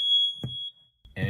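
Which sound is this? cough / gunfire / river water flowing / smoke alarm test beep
smoke alarm test beep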